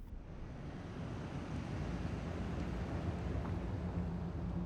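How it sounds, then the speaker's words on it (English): A dense, steady rush of processed wind, broad and roaring, continuous and fairly loud throughout with no other sounds. "There is kind of a weird wind sound surrounding the shell."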